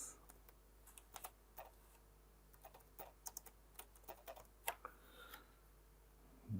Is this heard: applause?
no